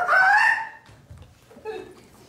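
A performer imitates a chicken clucking in a live improvised Brothers Grimm theater show, a loud drawn-out squawk followed by a quieter second cluck, alone without other talk.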